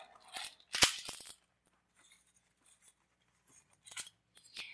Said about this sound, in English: once you have your cardboard heart cut out